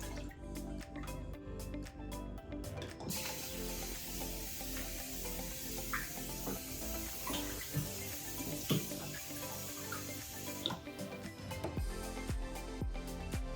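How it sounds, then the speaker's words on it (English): Water runs and splashes steadily into a bucket while nutrient feed for plants is being set up, with a continuous close pouring hiss, drips and small clatters throughout. "put it into another bucket to give me more room to add non-nutrient water"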